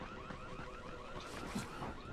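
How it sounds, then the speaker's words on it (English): An alarm blares in the zombie-apocalypse video game Dying Light, a warbling electronic tone sweeping up and down in quick repeated cycles, steady and moderately loud, alone without talk. "Who would put alarms in a fucking zombie apocalypse?"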